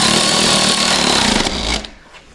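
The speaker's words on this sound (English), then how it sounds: "I love this ratchet." A power ratchet whirs loudly and continuously up close while a tire is fitted on a KTM 300 enduro dirt bike, then winds down and stops, leaving a faint quiet tail.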